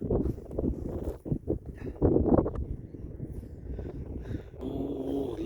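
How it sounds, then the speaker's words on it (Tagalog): Steady wind roars and buffets the microphone on open water, with gusty surges throughout and a low rumble underneath. "Lakas ng hangin dito."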